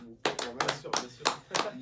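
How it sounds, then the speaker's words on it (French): A handful of people clap in a small room, about half a dozen close, uneven claps in a loose rhythm, with voices sounding around them. "on applaudit s'il vous plaît quand même"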